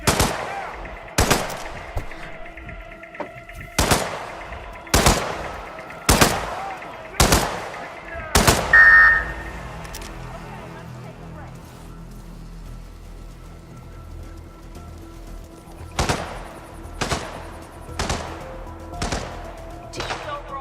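Gunfire in the video game Hitman, a series of loud, sharp single shots at steady intervals, a pause filled with low ambience, and then a further run of shots, with no talking.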